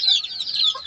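Mother hens clucking close by near their chicks, a soft continuous run of bright clucks and chirps with no talk.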